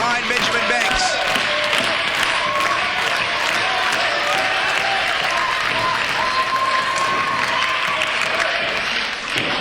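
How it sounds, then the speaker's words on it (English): A wrestling crowd rallies behind Benjamin Banks during a tag match, sustained cheering, clapping and rhythmic stomping filling the arena loudly and evenly throughout, with commentary voices under the noise. "And now the crowd trying to rally behind Benjamin Banks"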